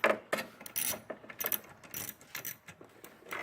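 A ratchet works at two 7mm screws holding a Chevy Camaro tail light, giving close, loud, irregular bursts of clicking and whirring pawl sounds with short pauses between, with no voices.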